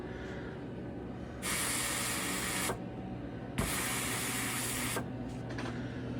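A hot veneer iron, heated to about 400 degrees, is pressed to a wooden pool cue shaft. Steam hisses out in two sharp bursts of a second or more each, with a third starting at the end, over a quiet background.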